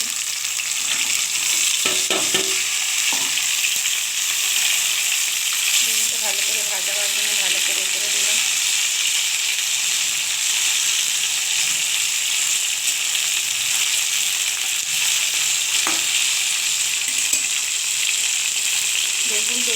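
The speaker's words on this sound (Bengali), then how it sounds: "দেখুন তেলটা গরম হয়ে গেছে এবার আমি বেগুনটা ছেড়ে দিচ্ছি" Eggplant slices sizzle in hot oil in a pan with a loud, continuous frying hiss throughout and a few faint clinks, and a voice is heard briefly in the background.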